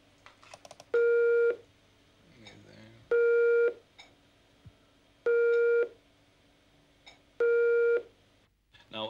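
A telephone busy signal on an internet voice call: four evenly spaced half-second beeps repeating about every two seconds, loud and clear, with faint clicks and room noise between them.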